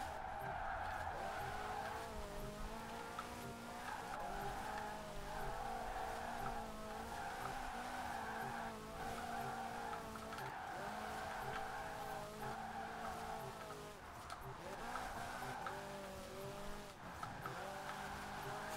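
A car drifts through a drift zone in Forza Horizon 4, tires squealing in a steady, sustained screech over a revving engine whose pitch wavers as the car slides. The sound runs continuously for the whole stretch with no voices.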